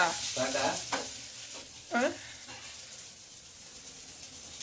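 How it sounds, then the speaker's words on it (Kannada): Hot oil crackles and sizzles close by as greens and spices are tempered, louder at first and fading to a soft hiss, with short bursts of speech over it. "ಸೊಪ್ಪು ಕಾಳು ಒಗ್ಗರಣೆ ಹಾಕ್ತೈತಿ ಪಪ್ಪ"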